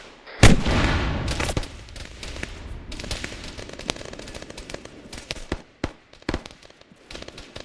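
A tank cannon fires in a video game battle, one loud booming blast with a long rumbling decay, followed by scattered sharper cracks of gunfire.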